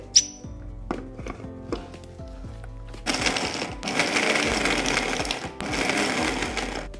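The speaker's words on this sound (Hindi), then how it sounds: "यहाँ पे ड्राई फ्रूट ठंडे हो गए हैं अब इसको हम कोर्सली ग्राइंड कर लेंगे" Electric kitchen grinder coarsely grinding cooled dry fruits: a few scattered clicks and taps first, then two loud, whirring grinding bursts separated by a short pause.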